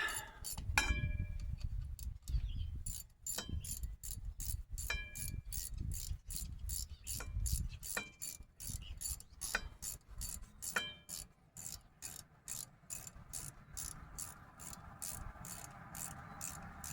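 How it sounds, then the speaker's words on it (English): A ratchet tightens the last bolt on a flat belt pulley adapter of a tractor, giving fast metallic clicking runs in repeated strokes, close and fairly quiet, with short pauses between bursts. "just tightening down the last bolt."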